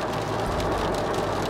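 Rain pours steadily during a night drive with the car windows open, a dense, continuous rushing patter mixed with road rumble.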